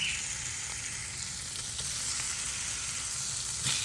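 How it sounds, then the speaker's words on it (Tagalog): Eggs frying in a pan without oil, a continuous close sizzle and crackle holding steady throughout with a few faint clinks. "luto tayo ng itlog"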